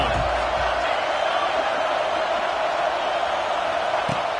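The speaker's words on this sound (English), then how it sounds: "This crowd ready to make its presence known." Stadium crowd at a Tennessee vs. Oklahoma college football game, a steady, dense roar of many voices holding throughout, with a commentator's voice on top.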